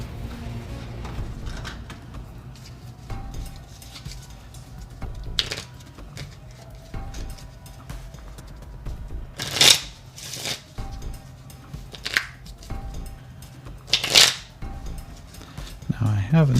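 Playing cards are shuffled and dealt during a tabletop game, with riffle bursts and sharp snapping card sounds recurring through the clip.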